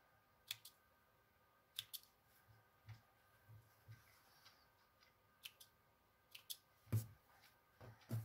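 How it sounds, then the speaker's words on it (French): Small scissors snip tiny threads on a sleep mask in a quiet room, giving a dozen or so sharp, close clicks at irregular intervals, some in quick pairs, with faint soft handling between them. "Alors, on va couper donc les petits fils."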